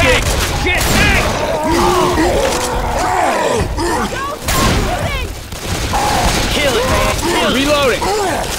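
Sustained heavy gunfire in Left 4 Dead 2 during a Tank fight, dense continuous shooting with frequent loud cracks, overlapped by shouting voices and groaning throughout.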